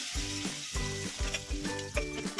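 Masala paste sizzles steadily in hot ghee with black cumin in a kadhai, a close, continuous frying hiss with a faint repeating tonal sound in the background.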